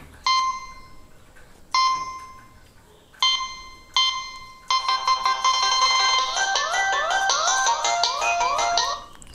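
Ringtone from a Nokia 6020 mobile phone: four short separate electronic tone bursts, then a continuous loud melodic polyphonic tune with rapid repeating notes, heard alone and close.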